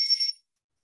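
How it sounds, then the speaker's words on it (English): A single bright bell chime rings once for a kids' online quiz game, clear and close, fading out within half a second into silence. "Oh, use the bell one. Use the bell."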